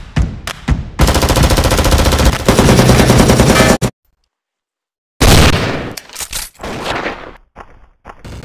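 Bursts of AK47 assault rifle fire in a Special Ops video game match at a library map: loud, dense automatic volleys, a sudden silence of about a second, then more ragged bursts and single shots.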